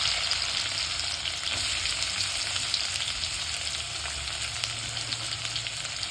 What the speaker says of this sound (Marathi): त्याच्यानंतर आपण घालून घेऊया बारीक चिरलेला कांदा